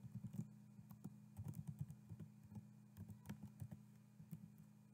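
Fast keystrokes on a computer keyboard while writing Python code, with quick uneven clusters of close, quiet clicks and taps and no talking.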